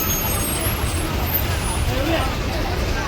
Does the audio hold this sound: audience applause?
no